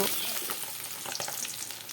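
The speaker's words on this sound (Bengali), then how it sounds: "কড়াইতে গরম হয়ে গেছে, তো তার মধ্যে তেল দিয়ে আমি মাছগুলো দিয়ে দিচ্ছি।" Bata fish fries in hot oil in a wok, a close, steady sizzle with crackling pops and light stirring throughout, no voices.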